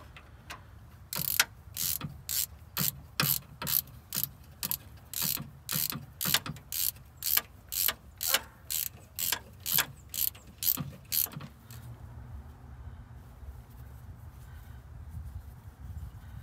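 A ratchet tightens a bolt on the ignition of a VW Thing, its steady run of sharp, evenly spaced clicking strokes close up and alone, then stopping into quiet.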